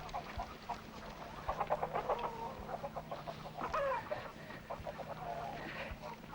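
Several chickens cluck and squawk nearby in quick, uneven bursts over a low steady hum.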